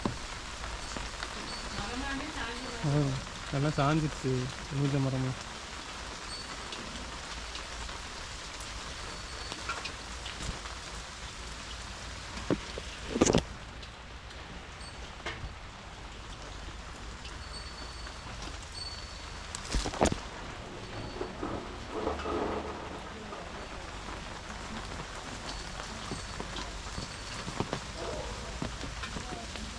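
Heavy rain pours steadily onto a garden of trees and crop plants, a dense hiss lasting throughout while someone talks over it.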